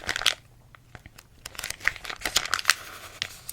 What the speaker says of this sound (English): Oh, those page turning sounds.